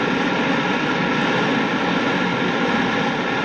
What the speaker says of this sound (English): I'll open the auxiliary retrojets.